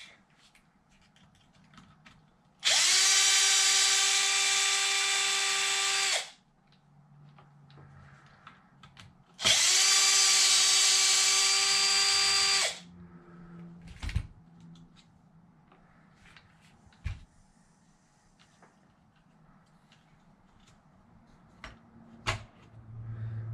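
A power drill drives the two bottom screws on an Arrma Infraction RC truck chassis in two steady whirring bursts of about three seconds each, followed by scattered light clicks and handling noises.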